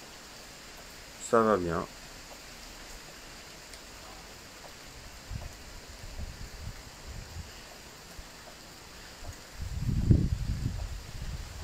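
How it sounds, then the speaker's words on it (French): Heavy rain and gusting wind during a sudden passing downpour in Laval: a steady, fairly faint wash of hiss with low rumbling gusts swelling near the end, and a brief voice speaking early on. "Vous voyez de la pluie, mais beaucoup de pluie et du vent."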